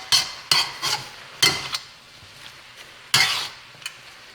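Wilting bolted spinach being turned over in a wok, heard as several separate rustling, scraping bursts with short quiet gaps between them, fairly close, with no talking.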